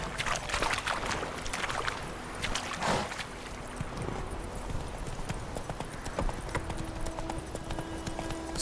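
Horse hooves trot in a video game, a steady clip-clop rhythm carried over wind-like ambient hiss at moderate, even loudness throughout.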